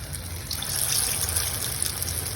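Marinated chicken pieces for chicken 65 fry in hot oil in a kadai, giving a steady close sizzle and crackle with a bright hiss that swells slightly partway through.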